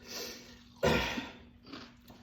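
Someone chews crunchy fire-cooked corn chips up close, one sharp loud crunch followed by a few quieter bites and mouth sounds against a faint steady hum, with no talking.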